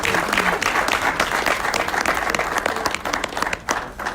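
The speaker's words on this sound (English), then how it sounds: "join me in a wild round of applause for Brian Kagoro as he comes up" An audience at a political launch event breaks into sustained applause, dense and steady for several seconds with a few louder claps and murmurs near the end.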